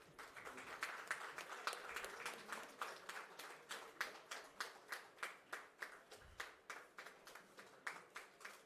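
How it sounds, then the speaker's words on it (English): A crowd applauds steadily, with many hands clapping in a quick, even rhythm that carries on throughout at moderate volume, heard from some distance. "I think we can give a huge round of applause."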